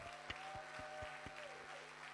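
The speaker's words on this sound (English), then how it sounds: "Clap for yourself." An audience at an International Youth Day gathering in Osu, Accra, claps for itself in a quiet, regular rhythm of distinct beats about four per second, heard faintly over a steady tonal hum.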